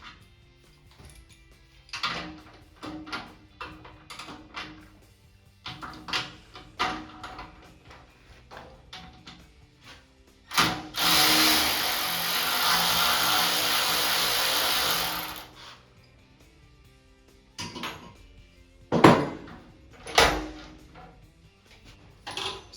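Ratcheting socket wrench working bolts free on an upright 60 gallon 5 hp air compressor during a belt change, with sporadic clicks and clunks, a sustained harsh burst of ratcheting in the middle, then a few sharp knocks, and no talking.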